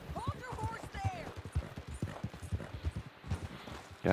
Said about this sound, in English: Hold your horse there.